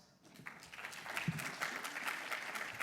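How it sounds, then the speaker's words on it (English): A conference audience gives a thin, faint round of applause after a pitch, scattered claps building into a soft, steady patter heard from a distance. "Let's give a warm round of applause"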